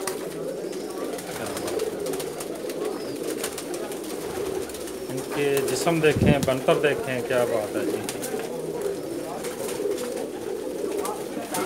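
Pakistani Teddy Rampuri pigeons coo in low, rolling bursts close by, rising in the middle of the clip, while someone speaks over them throughout.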